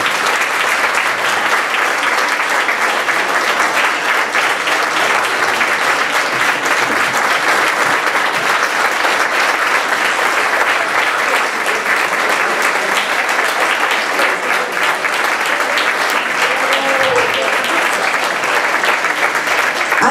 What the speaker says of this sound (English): I'd love for them all to stand up for us to give them a huge round of applause